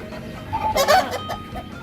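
Fighting cocks in a simple backyard pen cluck and cackle up close, several short, throaty calls overlapping in a brief burst over steady farmyard background noise.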